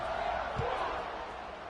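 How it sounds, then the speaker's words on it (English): Broad stadium crowd buzz from a college football video game matchup between Baylor and San Diego State, a steady roar and murmur that holds level throughout without distinct cheers. "this crowd is buzzing after that last score"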